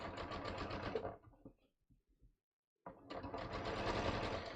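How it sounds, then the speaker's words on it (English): A sewing machine top-stitches a drawstring hem at a 3.5 stitch length, with a rapid close mechanical whirr that stops for under two seconds and then starts again. "So what I'm going to do is I'm just going to top stitch that."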